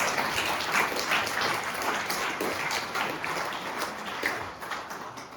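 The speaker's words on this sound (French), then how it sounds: "Bon, d'abord, on peut l'applaudir." An audience applauds at a New Year's wishes ceremony in Saint-Mammès, France, a full, continuous round of clapping from many people that holds steady and fades slightly at the end.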